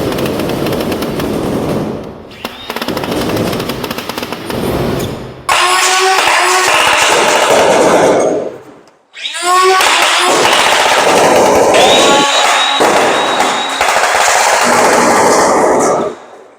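A Nerf Rival Perses blaster modified with brushless motors fires a long rapid burst of foam balls, whirring and clattering in fast, dense volleys with a brief pause between runs, loud and close with no speech.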